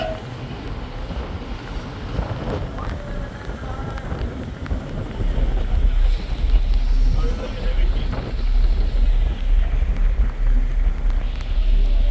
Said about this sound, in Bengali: এটাকে ঠিক তুফান বলা যাবে না মানে ঝোড়ো বাতাস শুরু হয়েছে